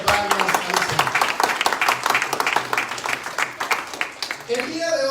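A crowd at a church service claps and cheers enthusiastically, steady applause filling the space while a preacher speaks loudly in Spanish over it.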